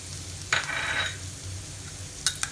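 Chopped capsicum fries with garlic in a pan: a soft, steady sizzle is broken by a few brief clinks of a utensil, fairly quiet and close.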